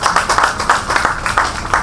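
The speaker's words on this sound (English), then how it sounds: "Can we have another round of applause for Su A Zen, please?" Audience applause for a child storyteller at a storytelling competition, a lively round of many hands clapping with slightly uneven bursts, close and fairly loud.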